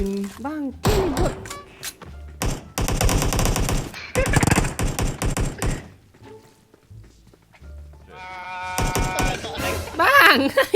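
Bursts of automatic gunfire in the shooting game PUBG Mobile come in rapid, loud volleys separated by short pauses, with players talking between and over the shots.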